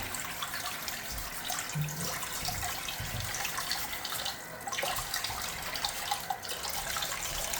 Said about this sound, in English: Now for the sink, you're just starting the water